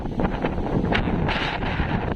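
Steady wind buffeting the microphone, a continuous low roar with gusty swells, loud and close throughout.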